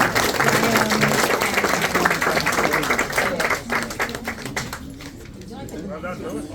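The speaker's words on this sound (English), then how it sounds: "One more round of applause for Wayne." Audience applause for an author at a book launch in a bookshop, a dense roomful of clapping that holds steady and then thins toward the end, with voices mixed in underneath.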